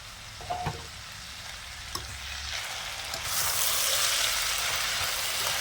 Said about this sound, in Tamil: இதை நல்லா அப்படி கிளறி விடணும். இது கொஞ்சம் எண்ணெயில் அப்படியே வதங்கட்டும்.